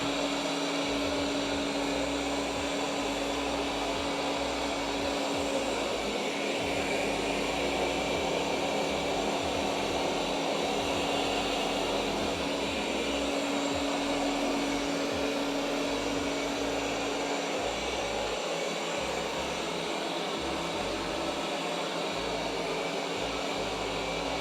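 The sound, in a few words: Roborock S8 robot vacuum vacuuming and mopping floor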